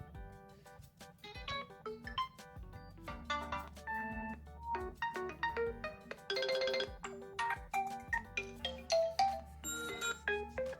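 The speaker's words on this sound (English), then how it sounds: "Let's go to ringtones." A ringtone plays on an OPPO Find X3 Pro phone, a bright run of electronic melodic tones over a soft bass line, near and clear, with no voices.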